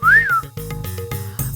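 A man whistles with his mouth, imitating a remembered whistle: a rising and falling tone followed by a quick run of short, clipped whistled notes, loud and close.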